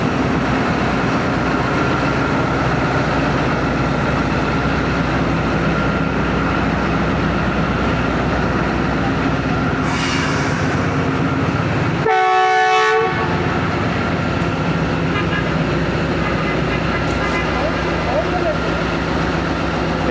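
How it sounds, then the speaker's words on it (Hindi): The 12 Down Badar Express, hauled by a Chinese 2000-horsepower ZCU20 series diesel locomotive, departs Qila Sheikhupura Junction in Pakistan. A loud, steady rumble of engine and rolling wagons plays close by, with a short horn blast midway. "12 डाउन बदर एक्सप्रेस रवाना होते हुए किला शेखुपुरा जंक्शन से"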